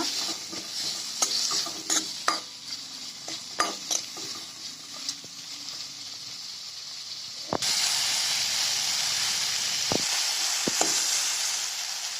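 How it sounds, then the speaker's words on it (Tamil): Pepper, cumin and fenugreek stir-fry in a pan for eggplant kuzhambu, with a steady close sizzle and hiss and scattered scrape and clink taps from a stirring spoon; after the first half the sizzle grows louder and more even. "இது கூட கொஞ்சம் மிளகு, சீரகம், வெந்தயம் சேர்த்துக்கோங்க. இது எல்லாத்தையும் நல்லா வதக்கிக்கோங்க."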